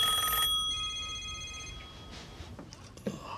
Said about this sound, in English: This sounds like a widely used Western Electric Model 500 stock telephone ring with 2 bells